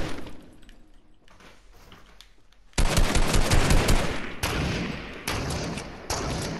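Shotgun fire in the Fortnite video game: after a quiet stretch, loud blasts begin abruptly and repeat in heavy bursts with short pauses between, close and dominant.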